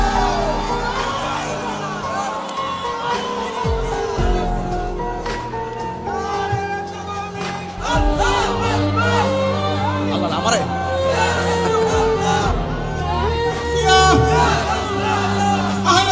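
A large crowd at a Bengali Islamic sermon shouts a slogan together, a loud, sustained mass of raised voices with cheers and calls rising and falling throughout.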